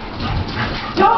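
Several pet dogs, including a French bulldog, whimper and yip excitedly close by in an indoor home, with a sharper yelp toward the end and a person talking over them.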